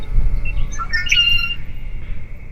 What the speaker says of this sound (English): Hey Cooper, what bird is that?